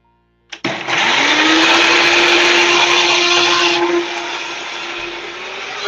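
Kitchen blender whirring loudly at a steady pitch after a sudden start while making icing for spelt guava buns, running alone and easing slightly in tone toward the end.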